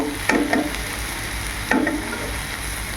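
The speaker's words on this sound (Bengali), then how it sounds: "দেখো পেঁপেটা ফ্রাই হয়ে গেছে, আর একটু ফ্রাই করব" Raw papaya greens sizzle steadily in a hot pan, with two distinct scraping stir strokes from a spatula cutting through the frying noise; no one speaks.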